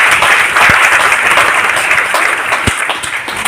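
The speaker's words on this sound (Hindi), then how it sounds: "एक बार प्रमोद जी के लिए जोरदार ताली" Loud, sustained applause from an audience at a seminar, dense clapping filling the whole stretch with a couple of sharper claps standing out.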